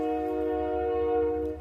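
Sustained harmonic blast of a train horn, steady and fairly distant-sounding, holding a chord for nearly the whole clip before tapering slightly at the end.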